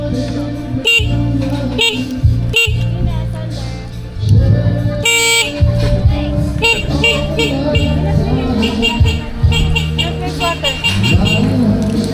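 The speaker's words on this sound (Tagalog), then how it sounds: "Bumubusina si Zach." Car horns honk repeatedly amid loud street noise, with people talking and music-like tones running throughout.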